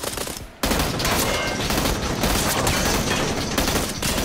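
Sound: gunfire in the video game PUBG

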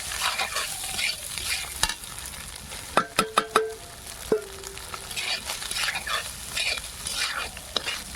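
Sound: cooked rice and eggs stir-frying in a pan

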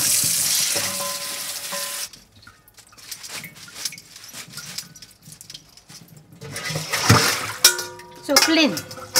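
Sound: washing spinach and clams in water

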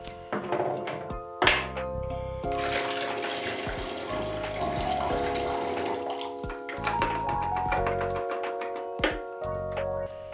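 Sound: pouring film fixing solution back into container

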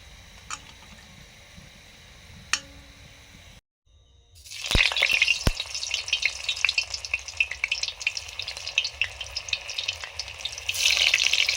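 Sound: frying onions (beresta) for biryani

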